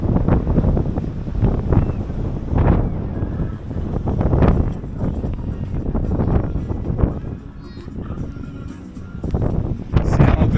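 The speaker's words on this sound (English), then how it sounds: "This wind is no joke. The sand is actually coming up and it's hitting me." Strong wind gusts across a black sand beach at Walvis Bay, Namibia, roaring steadily into the microphone with rushing buffeting surges, while someone talks over it throughout.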